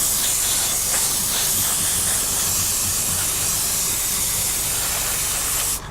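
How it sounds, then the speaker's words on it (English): An airbrush lays a quick, light misty coat of paint over a 1/48 scale HobbyBoss F4U-4 Corsair model plane, giving a steady, close hiss that runs alone and cuts off at the end. "we're just doing a very quick light misty coat, going all around, getting our leading edges."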